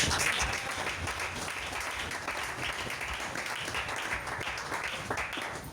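A church congregation applauding the Lord during a French-language sermon: steady, dense applause from many hands, a continuous wash of clapping that holds throughout at moderate level, with no speech over it.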